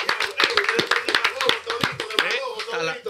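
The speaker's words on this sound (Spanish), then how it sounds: "démele un aplauso al Majin Basso" A small studio group claps for a guest in a Spanish-language talk show, with sharp, scattered hand claps rising and falling over about three seconds beneath overlapping voices.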